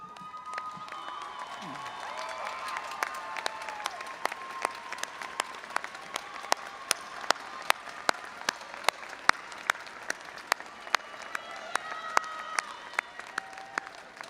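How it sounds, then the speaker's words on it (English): Graduates and guests at a university commencement ceremony applaud those who helped them, a broad, distant roar of clapping from a large hall, with sharper individual claps standing out nearby throughout. "join me in applauding those who helped you in the process of earning this degree"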